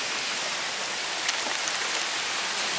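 Heavy rain pours down steadily on a camping spot in New England, a dense, continuous hiss of drops drumming on the surface around a Chevrolet Blazer, loud and close with no talk over it.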